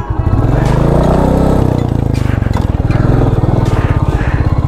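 A motorcycle engine revs loud and close as its wheel slips and spins on a hill, a throbbing pulsing drone that rises and falls for the whole stretch, with a voice talking over it.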